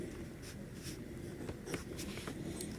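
Chalk or marker writing on a board during a maths lesson: faint, short scratchy strokes in an irregular rhythm over quiet room tone, with no voices.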